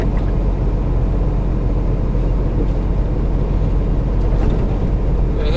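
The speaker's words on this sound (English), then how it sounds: "it's definitely accelerating on the slower side." A truck, loaded out of Bolthouse Farms in Bakersfield, California, speeds up slowly with a steady, loud low engine rumble and road noise heard from inside the cab, with no talking.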